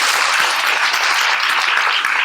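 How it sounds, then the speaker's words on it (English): Dense, steady applause from an audience at a film screening and panel event on a university campus fills the whole moment at an even, close loudness. "Give a rousing applause also for everything."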